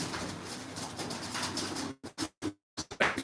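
Racing pigeons cooing on a loft roof: soft repeated coos over a low rustling background, then a series of short, separated coo bursts near the end, fairly quiet and close.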